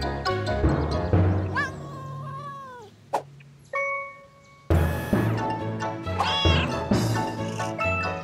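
A cartoon cat stuck up in a tree meows loudly and repeatedly, with drawn-out, wavering calls broken by a brief ding and short pauses.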